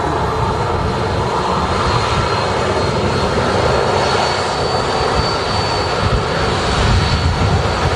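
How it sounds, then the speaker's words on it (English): A Jet2 airliner on short final into Manchester Airport, crabbing into a crosswind, produces a constant loud engine roar and rushing air throughout with no clear breaks. "Jet2 aircraft looking nasty as it's head on with us, crabbing into the wind right now on its short final into Manchester Airport."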